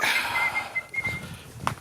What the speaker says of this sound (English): Who's that whistling?